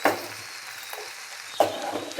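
Eggplant dry curry (vangi bhaji) sizzles and fries in a pan, a steady soft crackle with two louder bursts of stirring or spattering near the start and around the middle, no voices.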